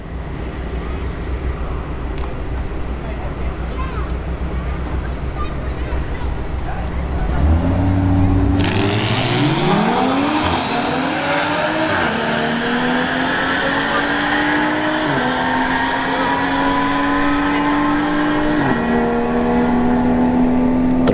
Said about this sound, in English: Genesis G70 here in the left lane. And the 3 Series Beamer in the right lane.